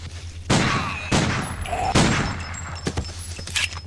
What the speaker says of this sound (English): Three body shots.